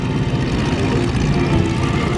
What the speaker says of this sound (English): Lycoming, 300 horsepower, 9-cylinder engine. And see, the engine works fine too.